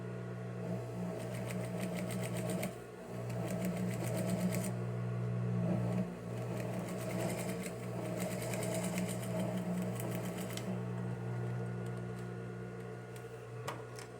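A sewing machine stitches a narrow topstitch along fabric binding, its fast rhythmic needle chatter running steadily in bursts with brief pauses, close and moderately loud, no voices.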